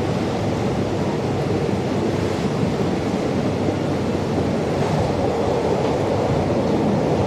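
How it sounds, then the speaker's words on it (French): Steady, roaring wind rushing and buffeting continuously, loud and close with no voices. "it's quite windy right now, you can see the camera moving"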